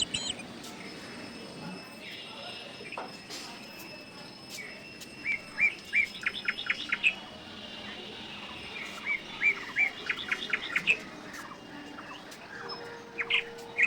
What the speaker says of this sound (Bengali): এই পাখিদের আওয়াজগুলো এত অপূর্ব লাগে আমার